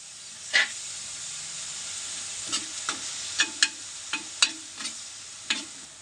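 Prawns stir-fried into cabbage thoran in a hot pan, a steady sizzle under a spatula scraping in irregular strokes, about ten short stirs, close and alone without talk.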